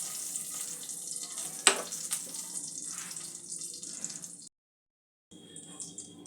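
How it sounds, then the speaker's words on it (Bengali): Whole spices temper in hot oil for chana dal kachori, hissing with a steady, moderate sizzle. One sharp clink stands out early on. The sound cuts to a brief silence, then the frying resumes. "ফোড়নটা একটু তৈরি করে নেব, একটু ভাজা ভাজা হওয়া পর্যন্ত অপেক্ষা করব"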